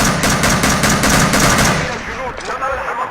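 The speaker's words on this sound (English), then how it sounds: "Now this M14 American rifle is outclassing my Simonov SKS." An M14 rifle fires in the Battlefield Iraq video game, a rapid, evenly spaced string of loud shots for about two seconds before the firing stops and a quieter tail lingers.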